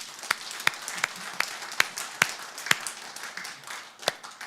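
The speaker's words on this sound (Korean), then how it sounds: "영광의 박수 한번 올려드립시다." Church congregation clapping after a sermon, a sparse, scattered round of hand claps with a few sharp individual claps standing out, fairly faint and brief.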